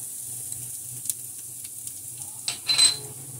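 Olive oil sizzling in a pan for carbonara, a soft, faint crackle near the microphone, followed toward the end by a brief louder scrape or clatter of a utensil against the pan.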